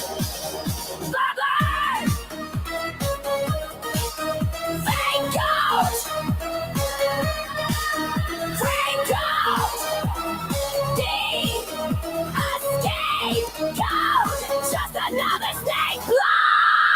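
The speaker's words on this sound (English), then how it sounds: "I always laugh at that scream at the end." A raging scream closes out a played song, the loud, strained vocal riding over driving rhythmic music with a steady beat throughout before the track cuts off abruptly at the end.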